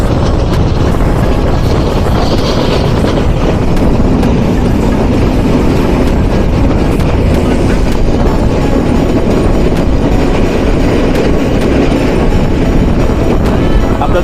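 A train rolling past Hitech City railway station, heard loud and close from on board with a constant heavy rumble, rattling carriages and wind buffeting throughout.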